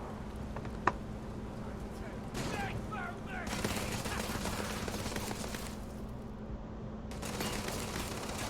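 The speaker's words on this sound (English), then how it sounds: "Who's shooting at me?" Scattered gunfire in a video game quest, crackling volleys rising and falling at a moderate distance over a steady low background hum, with short lulls between bursts.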